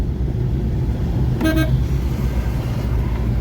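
Steady low rumble of a small motor vehicle riding along a road, with a single short horn toot midway through.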